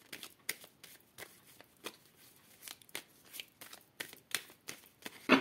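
Tarot cards being shuffled by hand produce a quick series of soft, papery riffles and flicks, close and fairly quiet, in an uneven rhythm.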